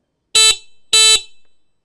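Horn on a VW Bug giving two short, loud, bright beeps in quick succession, each one clipped off sharply with a faint trailing ring.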